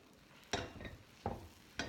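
Scrambled egg mixture being stirred and pushed around a nonstick pan with a spatula, three short scraping, sizzling strokes spaced about a second apart over a faint background.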